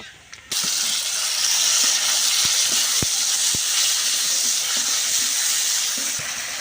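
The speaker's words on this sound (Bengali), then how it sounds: "কড়াইতে আবারও তেল দিয়ে দিচ্ছি এবার দিয়ে দিচ্ছি পেঁয়াজ কুচি" Onion, garlic and cumin paste dropped into hot oil in a wok, a sudden loud, steady sizzling hiss that holds throughout, with a few light clicks of a spoon against the pan.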